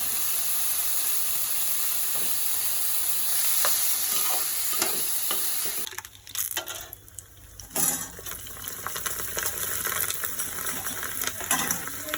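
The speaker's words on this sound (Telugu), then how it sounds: "ఇప్పుడు బంగాళదుంప వేసేస్తాను" Potatoes with curry leaves fry in a pan, a steady loud sizzle with stirring and scraping, briefly quieting and then resuming.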